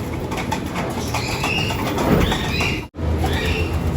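Pigeons feeding in a loft with breeders, soft cooing and bird murmurs over a busy, close background rustle, with brief wing movement near the end.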